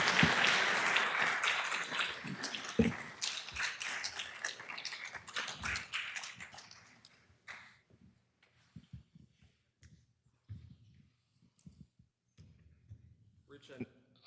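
A crowd applauds in a dense wash of clapping that fades out after several seconds, leaving quiet taps and a speaking voice.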